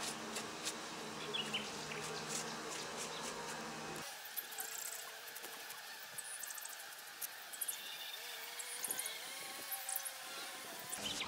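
Honeybees buzz inside a queenless hive used for raising queen cells, a dense, close, steady hum that thins and drops in low-end fullness partway through, with faint scattered clicks and no clear speech.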